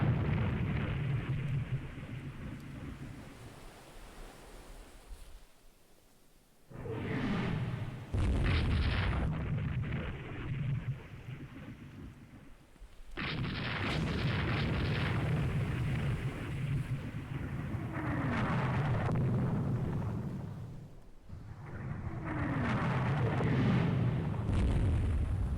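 Torpedo hit explosions in the naval strategy game Rule the Waves 3: long, loud rumbling booms with heavy low-end roar, several blasts separated by brief near-silent gaps, sustained and dense throughout.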